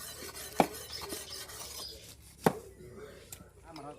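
A knife chops through a large 30 kg fish at a fish market, giving two sharp, heavy strikes about two seconds apart, with faint background bustle between them.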